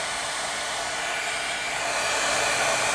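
A heat tool blows steadily at close range while drying ink on an autumn art journal, giving a constant loud whooshing hiss with no breaks and no voice.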